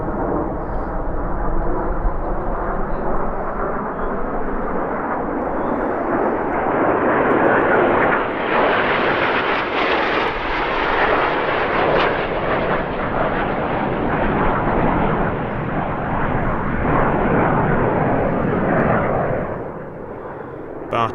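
Nine aerobatic airplanes in pyramid formation break into a downward bomb burst at an airshow, producing a loud, sustained engine roar that swells and holds for about twenty seconds before easing off slightly at the end.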